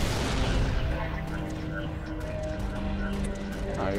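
Grenades explode in co-op Halo: Reach, with a loud, rumbling blast at the start that fades into a lingering boom. Voices speak over and between the blasts.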